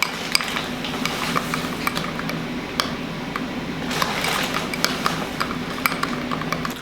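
A utensil stirs garlic in a bowl while prepping butter for grilled largemouth bass fillets, light repeated clinks and scrapes over a steady outdoor hum, no talking.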